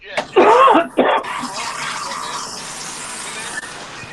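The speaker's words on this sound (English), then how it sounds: "I'm about to mute you because you coughing a little too much" Two harsh, close coughs burst out in quick succession, then the room settles into quiet background noise.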